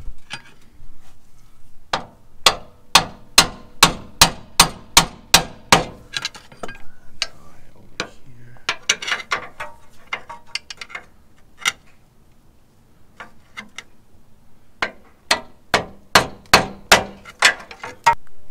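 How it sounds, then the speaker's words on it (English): A hammer strikes a long pry bar to drive a CV axle into the front differential of a Land Cruiser 100, in a steady burst of sharp metallic taps, a rougher scraping stretch, then another quick run of ringing blows. "use the pry bar, the long pry bar, and a hammer"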